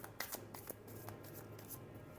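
Tarot cards being shuffled by hand, a quick run of crisp riffling flicks and taps, close and quiet, with no talk.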